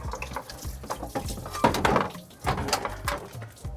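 Distilled water drains and splashes from the blown 5.0 engine of an older Ford F150 during teardown, an irregular trickling and dripping with a few louder gushes.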